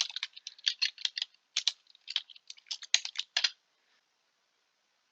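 Fast typing on a computer keyboard, a dense run of crisp key clicks in uneven bursts for about three and a half seconds, then a pause before one last stray tap.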